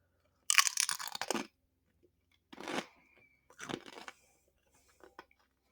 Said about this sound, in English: I'll take a bite and I am going to let the food sit in my mouth. I'll chew very slowly.